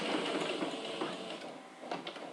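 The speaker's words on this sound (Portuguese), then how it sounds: "Lembra de dar o retrocesso na máquina" A sewing machine backstitching in reverse while sewing a lined zip pouch, a fast, faint mechanical whirring with a quick stitching patter, then a brief pause and a few short bursts.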